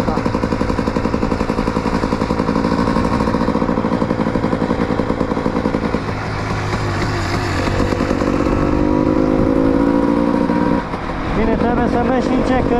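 Motorcycle being ridden gently during engine break-in, a steady loud engine drone with shifting pitch throughout, wind and road noise mixed in, and a brief dip near the end.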